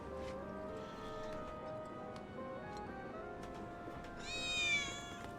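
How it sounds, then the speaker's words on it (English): In the video game Final Fantasy VII Remake, a single rising cat meow sounds near the end over soft, steady game background music and ambience. "I heard a cat."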